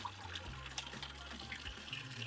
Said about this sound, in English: this is the fresh water that you can just take away with you in a bottle and drink it